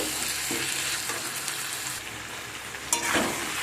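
Meat stir-fried with ground cumin, coriander, turmeric and salt, a loud continuous sizzle with occasional stirring scrapes, close and steady, no voices.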